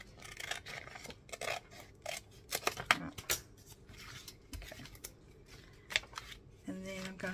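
Scissors snipping paper and card for a junk journal, close and fairly quiet, a series of short scattered cuts and rustles with paper handling, ending in a brief clearer tone.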